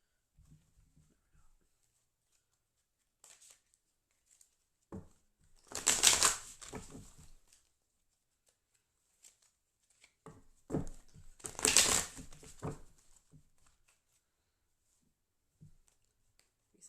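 Tarot cards being shuffled by hand during a zodiac reading, two loud bursts of riffling with quieter taps and handling noises between them, no talking.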